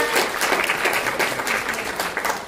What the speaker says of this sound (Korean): 다시 한번 장군님께 큰 박수 부탁드리겠습니다.